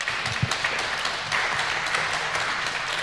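A conference audience at SHA2017 applauding, a steady wash of crowd clapping that carries evenly through the whole stretch without speech.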